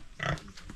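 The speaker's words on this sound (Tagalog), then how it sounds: "Oh, baboy mo ito?" A pig gives a single short, low grunt, faint and brief, with quiet background noise around it.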